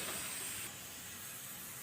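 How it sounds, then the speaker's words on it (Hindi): Mustard oil tadka sizzles in a pan over a village cooking fire, a bright close hiss that is loudest at first and then settles into a quieter, steady frying crackle. "तो यहाँ पे मैं तेल डाल रही हूँ, जो सरसों का तेल है उसका तड़का लगा रही हूँ मैं।"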